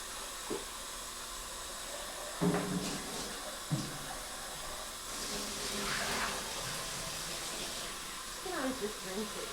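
A blender is rinsed under running tap water in a home kitchen, a steady hiss of flowing water with brief clatters, while people talk over it.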